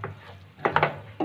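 Carrots and sauces being sautéed in a pan for a chicken Chinese sandwich filling, heard as a few short close scrapes and clatters of a spoon against the pan over a faint background hiss.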